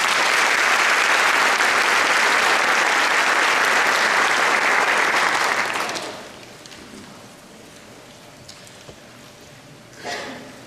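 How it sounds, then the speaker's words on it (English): A commencement audience gives a dense, loud round of applause for honored faculty, sustained for about six seconds before abruptly thinning to a quiet hall with a brief stir near the end. "Please give them a round of applause."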